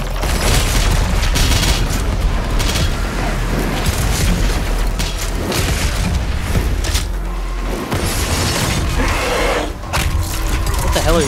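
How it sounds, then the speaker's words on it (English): Rapid, sustained chain gun fire in Doom Eternal, loud and dense, mixed with booming impacts and game effects for the whole stretch, with faint voices briefly underneath. "I like how they made the chain gun kind of like a laser gun"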